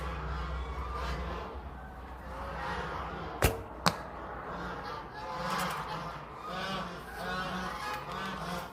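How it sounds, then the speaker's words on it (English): Many geese honk continuously in a noisy flock, close by, with two sharp clacks partway through. "Man, them geese are tuned up."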